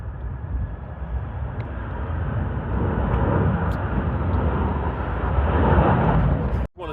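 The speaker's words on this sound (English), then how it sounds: "Hey, look, a big plane." A large airplane displayed at an air and space museum, heard as a steady broad roar of loud rumbling noise that swells slightly toward the end before cutting off abruptly.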